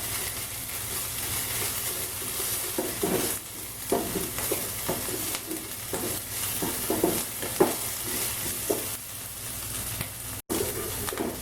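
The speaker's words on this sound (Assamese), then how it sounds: "আদা আৰু নহৰু চেনটো নোহোৱালৈকে এইখিনি ভাজি থাকিব লাগিব।" Ginger garlic paste frying in a pan for chole gives a continuous soft sizzle, with repeated scraping stir strokes throughout and no talking.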